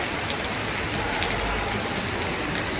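Steady rain falls over an outdoor spot, a dense continuous hiss of drops on surfaces at even loudness throughout, with no voices.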